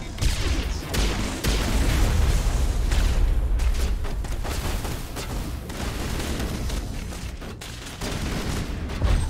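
Intense combat in the video game Mass Effect 1, with dense grenade explosions and rapid gunfire blending into a continuous loud barrage with booming impacts throughout.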